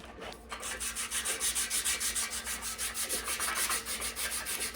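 Steady rhythmic rubbing of an abrasive across an oiled Damascus steel belt buckle, working out scratches with even back-and-forth strokes, close and continuous with no voices.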